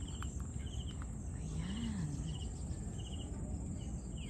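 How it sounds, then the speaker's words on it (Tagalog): Insects chirp outdoors at night in a steady, dense chorus of short repeated pulses, with faint rustling and a low background hum. "Ano ba yun? Mga insekto."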